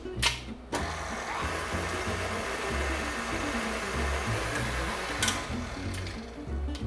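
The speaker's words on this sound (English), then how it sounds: "Whisk that up." Five large eggs are whisked in a large bowl, making a steady, fairly soft, rhythmic clatter and swish that continues throughout, with a couple of sharper knocks against the bowl.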